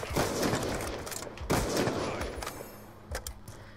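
Light machine gun fire in Call of Duty comes in sustained rapid bursts of automatic shots, loud and close, easing into scattered fire near the end, with no talk.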